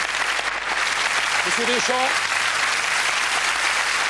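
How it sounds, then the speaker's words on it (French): A TV studio audience gives long, dense applause for the Brive team, loud and unbroken throughout, while someone briefly speaks over it. "Je veux qu'on applaudisse très fort ceux qui sont derrière moi"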